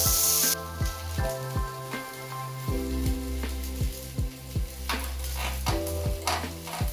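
Banana flower curry frying in a wok, with repeated rhythmic scrapes of a spatula stirring over a steady close sizzle.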